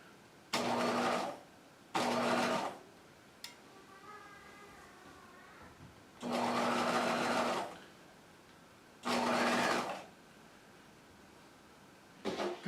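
A sewing machine stitches jacket fabric in four distinct bursts of steady whirring and rapid needle chatter, separated by short quiet pauses while the cloth is eased along; there is no talking.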